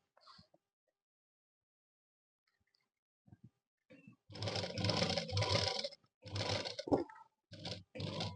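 Sewing machine running in bursts of rapid stitching while a zip is sewn onto a lined suit, loud and close, with several separate runs broken by short pauses after a quiet start.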